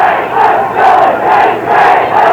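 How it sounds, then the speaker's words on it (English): A football crowd at a 1986 Boston University versus Delaware State game roars in steady, swelling waves of cheering and shouting, loud and continuous with no clear talk. "The fans getting into the game a little bit now. The first time hearing some noise from BU side."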